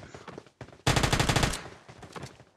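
Automatic gunfire in the mobile battle-royale game PUBG Mobile, with short rapid bursts followed by a longer loud sustained volley and more bursts, close and dominant.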